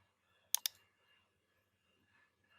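A computer mouse gives two sharp, quick clicks close by in a quiet room, then near silence with faint background hum.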